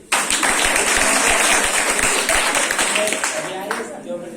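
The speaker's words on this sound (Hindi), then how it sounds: "ताली संकेत दे रही है।" Students clap together in a school classroom quiz competition, a burst of steady, fairly loud applause that thins out toward the end.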